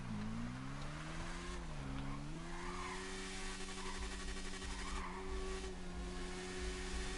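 A motorcycle engine redlining at 12,000 rpm in a racing video game, a sustained high whining drone that climbs and holds steady with slight pitch swings, fairly faint.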